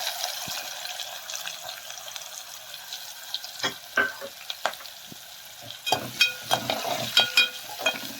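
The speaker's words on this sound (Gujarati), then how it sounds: "તેમાં ડુંગળી સાતડી લઈશું" Onions sauté in hot oil for a Gujarati corn-flour dish, giving a steady low sizzle broken by a series of louder scraping stirs toward the end, close up and without voices.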